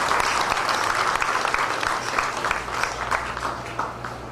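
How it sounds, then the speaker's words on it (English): An audience at a Ganesh Utsav Hindu cultural celebration gives a round of applause, dense continuous clapping at moderate volume that gradually thins and softens toward the end, over a low background hum. "Please give a round of applause to them."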